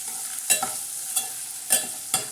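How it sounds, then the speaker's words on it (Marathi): Onions and tomatoes fry softly in a pan, a low sizzle broken by four or five sharp scraping stirs of a spoon at irregular intervals. "आता हे कांदा आणि टमाटे आता हे मस्तपैकी असे छान असे लालसर करून घेणार आहोत."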